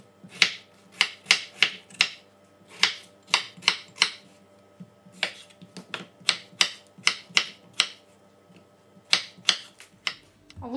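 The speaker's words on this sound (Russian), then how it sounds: "Режу кубиками картошку." Knife dicing potatoes into cubes on a cutting board for pea soup, a run of sharp, close chopping knocks in quick, uneven bursts with brief pauses.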